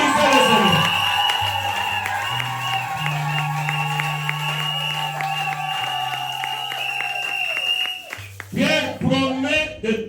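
A wedding congregation at a religious ceremony claps and cheers beneath sustained keyboard or organ chords, the applause running steadily under the music before swelling with crowd voices at the close.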